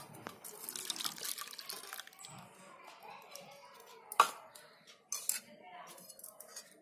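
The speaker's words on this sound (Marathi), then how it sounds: "हे ताक ओतते." Buttermilk poured into fasting-style dhokla batter in a kitchen, a soft liquid trickle and splash near the mic with light clinks of a utensil against a bowl, under brief quiet speech.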